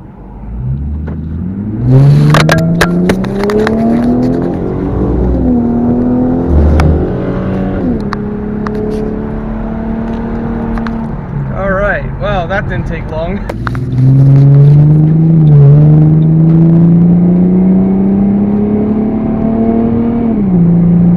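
A V6 Ford Mustang's exhaust revs repeatedly, loud and close, with rising engine tones climbing and falling across several pulls, voices talking over parts of it.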